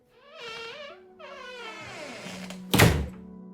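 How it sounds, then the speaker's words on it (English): A diner's screen door groans open in drawn-out, wavering creaks that rise and fall, then lands with a single loud thunk near the end, close by with no voices. "The screen door groaned as he opened it."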